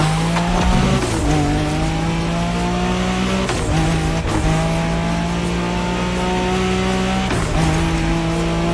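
A car drifts in the racing game The Crew Motorfest, its engine revving loud and continuous while tires squeal through long slides, with several sharp gear or throttle shifts breaking the steady roar.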